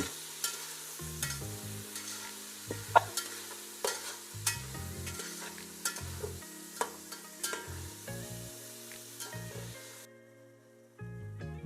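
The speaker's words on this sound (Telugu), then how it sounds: "టమాటా బాగా మగ్గనిచ్చి" Tomatoes softening and cooking down in a pan for a cashew tomato gravy curry, with a steady low sizzle and repeated spoon-stirring scrapes at close range, no voices.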